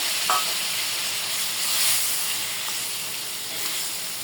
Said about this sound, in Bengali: একটু জল দিয়ে দেব, গরম।